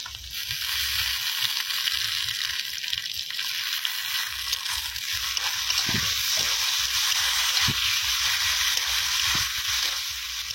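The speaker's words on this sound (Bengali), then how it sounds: "এবার টমেটো কুচি দিয়ে দেবো।" Chopped tomatoes sizzle as they are added to lightly fried onions and tempering spices in a pan over a village kitchen fire, with a loud, steady hiss and a few sharp utensil knocks.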